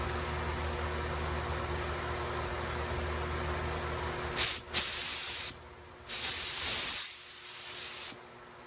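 Spray gun laying a second coat of paint on a 1968 Oldsmobile Cutlass fender, with three hissing bursts of spray of about a second each, close and loud over a steady low background hum.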